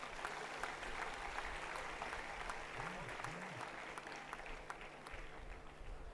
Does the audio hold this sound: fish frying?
no